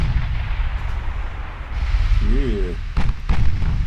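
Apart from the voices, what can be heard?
warship guns firing in the video game Ultimate Admiral Dreadnoughts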